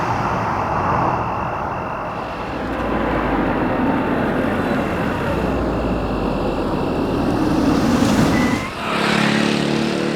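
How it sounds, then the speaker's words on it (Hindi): A car pulls up to a stop, its engine droning steadily near and loud for several seconds before easing down at the end, with no talk over it. "आ गई हसीना जी की गाड़ी।"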